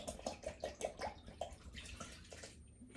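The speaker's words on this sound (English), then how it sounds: "So I'm going to pour this in." Liquid, such as oil or vinegar, is poured into a soda bread mixture, giving short splashy gurgles and drips in quick succession, faint and close, with no talk.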